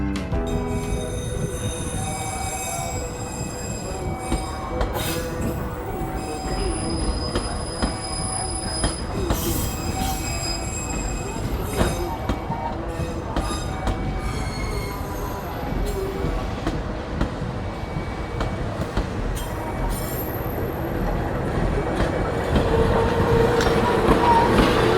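A train hauling new INKA-built KRL electric commuter cars rolls into a track at Probolinggo, with sustained high-pitched wheel squeal, metallic clicks and a rumbling undertone that grows slightly louder toward the end.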